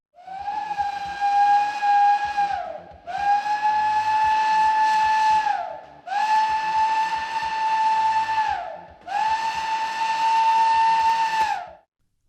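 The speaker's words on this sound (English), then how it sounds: "The fire whistle is short, continuous blasts of the emergency steam whistle." Four long, loud blasts of an emergency steam whistle sounding a refinery fire alarm, each held about two and a half seconds with short gaps between, steady and piercing with no talking.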